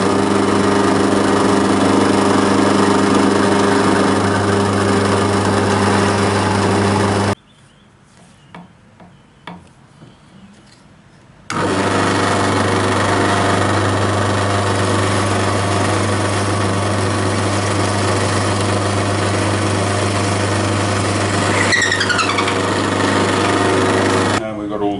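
A power drill with an 11mm bit bores a hole through a board, running loudly and steadily for several seconds, stopping briefly with a few small knocks, then drilling again for a long stretch.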